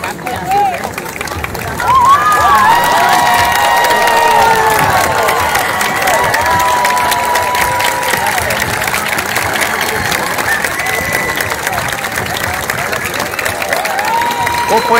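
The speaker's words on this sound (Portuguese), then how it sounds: "Muito bem aplaudida." A large outdoor crowd claps and cheers steadily for a women's military police company marching in a September 7 parade, with a busy murmur of voices and an announcer talking over it.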